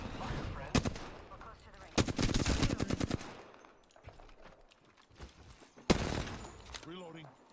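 Rapid automatic gunfire from weapons in the video game Apex Legends, several loud close bursts of rattling shots separated by quieter gaps, with a voice speaking near the end.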